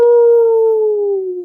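A person's voice imitates a werewolf howl: one loud, sustained tonal cry that slowly drops in pitch over about a second and a half, close and alone.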